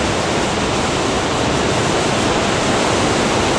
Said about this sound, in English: Look at all this water!